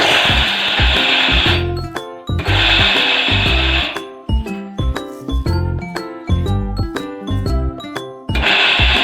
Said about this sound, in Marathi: तर अशा प्रकारे आपण मिक्सरला फिरून घेऊ